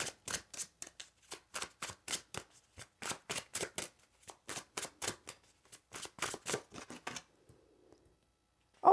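Tarot cards being shuffled and pulled, a run of crisp, close riffling snaps in quick clusters with brief pauses, nearly alone in a quiet room.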